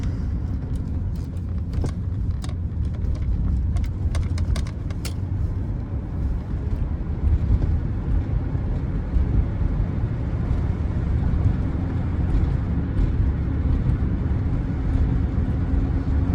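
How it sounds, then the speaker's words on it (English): A 1979 Cadillac Coupe deVille cruises on cruise control at a steady 35 mph, giving a constant low road and engine rumble from inside the car, with a few faint clicks early on and no talk. "I got the cruise going on right now, and it's staying at the same speed, 35 miles per hour."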